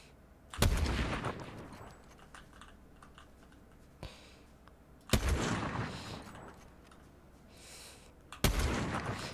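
Three loud, sharp sniper rifle shots in Fortnite, spaced several seconds apart, each with a booming tail that fades out, and a fainter click between them.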